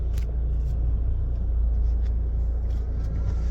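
A car drives through and turns at the main gate of Jubilee Town in Lahore, its engine a steady low rumble with road noise, close and continuous, with no talk.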